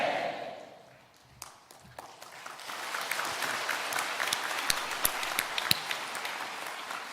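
Applause from a church congregation at a Korean Full Gospel revival service, a dense crowd clapping that builds from quiet to a steady, full roar with occasional sharper claps standing out.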